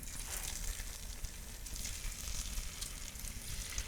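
Pakora batter fries in hot oil with a dense, continuous sizzle and crackle at close range, steady throughout and fairly quiet, with no voices.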